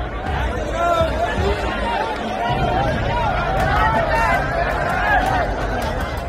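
A dense crowd of thousands of young job seekers packing a small road at an army recruitment rally in Pithoragarh, Uttarakhand: continuous loud babble of many overlapping voices and shouts, close and steady throughout.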